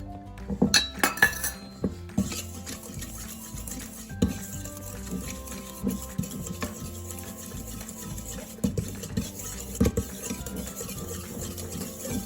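A loop whisk works through batter in a bowl as flour is added for potato and chive bread, giving a steady run of close clinks and scraping taps against the bowl, with no voices.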